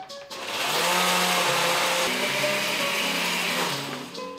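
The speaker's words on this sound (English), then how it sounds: "we're gonna put them here in the blender" A blender whirs loudly for a few seconds blending green tomatoes with a little water, its motor pitch shifting slightly as it churns, then winds down at the end.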